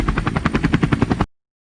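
A helicopter's rotor beats in a fast, steady, heavy chop, loud and close, for just over a second before cutting off abruptly into silence.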